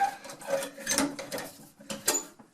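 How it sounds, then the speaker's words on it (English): Ratchet cranking down the strap on an appliance dolly holding a big refrigerator, a series of close mechanical clicks and ratcheting strokes in an uneven rhythm. "And then I'll crank it on down."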